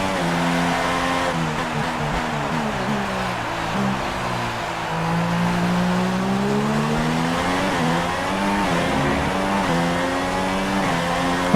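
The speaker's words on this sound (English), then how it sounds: "I love the sound of that Honda downshifting." A Honda Formula 1 engine from the F1 2016 racing game, in a Red Bull car at the Canadian round, drones loud and continuous, its pitch dipping and rising through downshifts.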